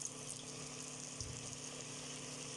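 Eggplant fritters (beguni) frying in hot oil, a faint, even bubbling sizzle that holds steady throughout with no voices.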